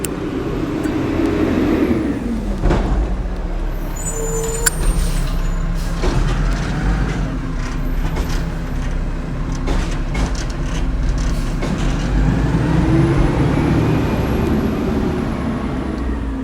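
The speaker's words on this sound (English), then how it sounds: "as the trash truck goes by" A garbage truck rumbles past close by with a heavy diesel drone and gives a short hiss from its air brakes, and the engine noise swells and fades as it moves along the street.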